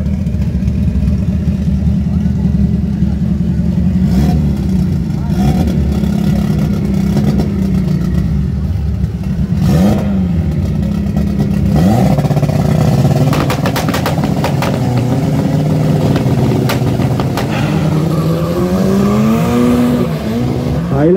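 Drag race cars, including a front-turbo VW Gol on slick tyres, rev and launch at a drag strip in a loud, continuous engine roar with rising pitch sweeps as they accelerate, and crowd and commentary noise underneath.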